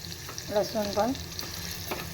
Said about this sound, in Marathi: हे पण छान असं खरपूस असं परतवून घ्यायचं छान असं मस्तपैकी